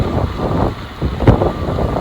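Wind buffets the microphone of a cyclist riding an urban trail, a loud continuous low rumbling roar with uneven gusty swells throughout the short stretch.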